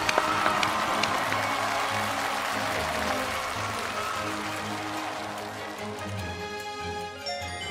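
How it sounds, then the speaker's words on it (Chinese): A studio audience on a Chinese TV talk show applauds to welcome two guests to the stage. The clapping is dense, continuous and fairly loud, holding for about eight seconds before tapering slightly. "接下来让我们掌声有请两位当事人走上舞台"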